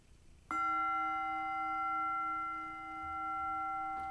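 A meditation bell strikes once and rings on with a long, pure sustained tone that slowly swells and fades, heard alone in a quiet room.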